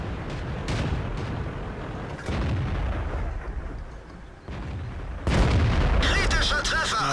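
Tank cannon fire in a tank game from a Pz.Kpfw. IV Ausf. H, several heavy booming shots at intervals, each followed by a rumbling tail, loud and close under continuous engine and battle noise.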